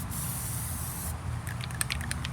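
Spray can applying plastic dip undercoat beneath a shuttle bus during a conversion, a steady close hiss that cuts out after about a second, followed by faint light clatter.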